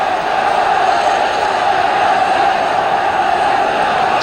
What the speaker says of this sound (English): there's good noise coming up from this crowd